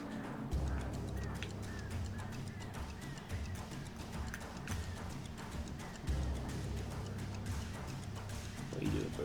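Birds honk repeatedly in the video game Alan Wake, scattered calls over a dense, steady wash of game ambience and low rumbling.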